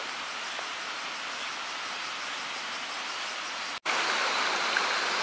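Constant rushing water noise from a waterfall near Nishiwaki, Hyogo, Japan, broad and steady, briefly cut off for an instant before resuming.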